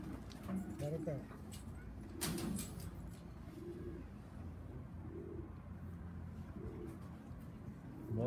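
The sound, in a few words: pigeons cooing on a rooftop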